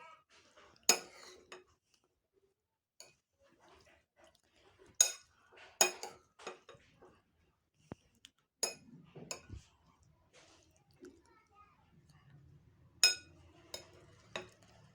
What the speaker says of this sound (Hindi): इसे मिक्स करेंगे पहले अच्छी तरह से।